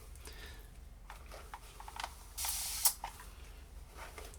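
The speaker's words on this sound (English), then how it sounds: "I am just using water from my continuous spray bottle to try and smooth that out" A continuous spray bottle mists water over fine wavy hair in a burst lasting about half a second, ending in a sharp hiss, against a quiet room with faint handling clicks.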